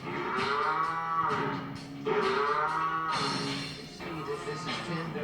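Cattle on an industrial farm moo loudly and repeatedly, several long drawn-out calls overlapping close by, with barn noise in the background.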